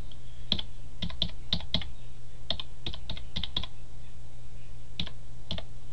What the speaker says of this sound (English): Up here on the top of your browser, type in